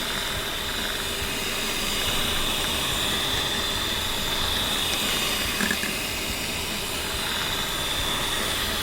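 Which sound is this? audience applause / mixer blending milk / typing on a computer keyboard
mixer blending milk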